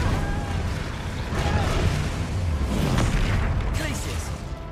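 Spell blasts from Hogwarts Legacy gameplay, including Confringo and Incendio casts, with repeated booming bursts and magical crackles layered over a dense game soundtrack while a voice calls out spell names.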